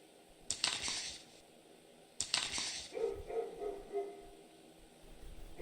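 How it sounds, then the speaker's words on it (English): Distant barking from a neighbor's dogs in the horror game Spirit Hunter: NG, a few quiet bursts separated by pauses, faint and a little muffled against low background noise. "The neighbor's dogs are barking."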